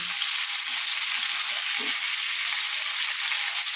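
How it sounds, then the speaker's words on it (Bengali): Cut potatoes fry in hot oil with salt and turmeric, giving a dense, even sizzle that holds steady throughout with faint stirring clicks and no talking. "তো আলুগুলো নুন হলুদ দিয়ে লাল লাল করে ভেজে নেব।"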